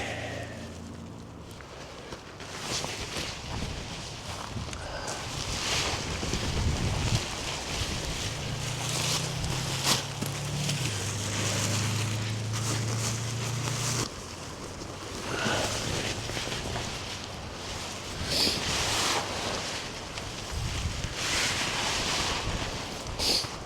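Strong wind blowing outdoors while a tent is pitched, with heavy, continuous buffeting rumble and gusting roar against the microphone, loud and close throughout, and fabric flapping now and then.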